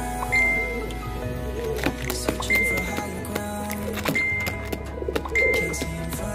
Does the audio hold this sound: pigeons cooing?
yes